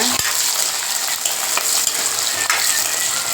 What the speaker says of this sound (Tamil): கால் கிலோக்கு அளவு பூண்டு எடுத்து வச்சுருக்கேன் இப்போ இந்த எண்ணெயில் போட்டலாம்